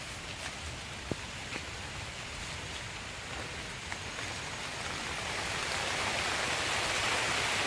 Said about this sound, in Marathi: पाऊस लागता तर मी घरात घेतोय.